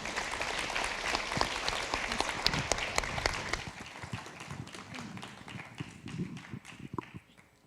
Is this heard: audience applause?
yes